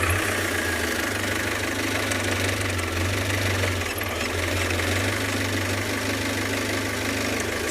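A safari vehicle engine runs steadily at a low, knocking idle with a constant rumble and vibration, close and fairly loud, with no talk over it.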